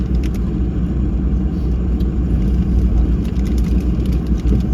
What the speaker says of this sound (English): That's a real car.